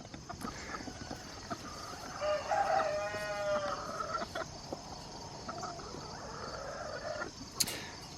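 Chickens held in a cage cluck and a rooster crows partway through, moderately close, over a steady outdoor background hum with scattered rustling.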